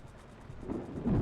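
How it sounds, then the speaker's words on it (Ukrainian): Thunder rumbles in a horror video game, starting faint and swelling into a deep, louder roll near the end over a soft hiss of rain. "Чи на вулиці дощ, щось гримить"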